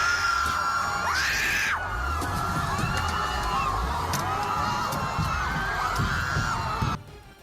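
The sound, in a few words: crowd screaming as truck drives into protesters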